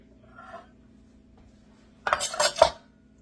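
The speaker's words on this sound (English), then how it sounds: "I'm going to bring my pan over." Metal baking pan carried over and set down in a home kitchen, a faint clink first, then a close, loud clatter and scrape of metal against the counter.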